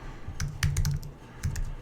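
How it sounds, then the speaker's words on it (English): Keys clatter on a computer keyboard in short bursts, a few quick clustered taps and a second flurry near the end, close and moderately loud with no talking. "Let's type that in here."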